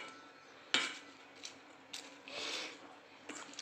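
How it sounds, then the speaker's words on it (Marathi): Dadpe poha being stirred together with a spice tempering in a bowl, giving soft scraping and light clinks of a spoon against the bowl, several faint irregular taps near the mic, no talking. "आता मी ह्याच्यामध्ये फोडणी टाकलेली आहे आता याला परत मी छानपैकी एकजीव करून घेतो"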